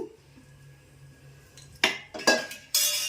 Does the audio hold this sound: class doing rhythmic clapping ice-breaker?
no